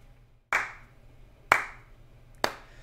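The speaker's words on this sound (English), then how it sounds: "Slow clap." Three slow, deliberate hand claps ring out about a second apart, each sharp and distinct with a brief decay, over near silence.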